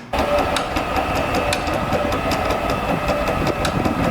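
A grinder grinding metal makes a steady, loud mechanical whine with a rough grinding texture that runs continuously throughout, close up, with faint rhythmic ticking inside the noise.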